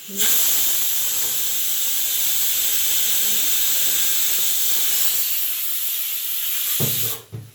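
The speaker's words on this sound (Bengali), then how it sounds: "এখানে আমার আলু ভাজাটা হয়ে যাচ্ছে, একটু আরও লাল করে ভেজে নেবো" Potato pieces seasoned with salt and turmeric fry in hot oil with a loud, continuous close-up hiss that holds steady, then thins out and drops away near the end, followed by a brief knock.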